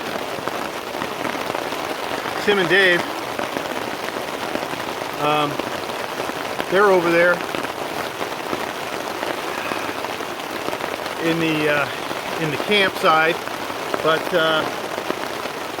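Steady rain patters on a tent at a campsite during an overnight trip, a continuous close hiss that persists while someone talks over it.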